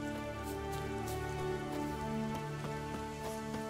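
Rain pattering steadily in The Witcher 3 on Skellige, a soft continuous wash of drops with scattered sharper taps, quiet and even throughout.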